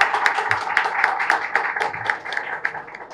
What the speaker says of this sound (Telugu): నా కోసం ఒక్కసారి మళ్ళీ ఆ అమ్మాయి కోసం గట్టిగా చప్పట్లు కొట్టండి.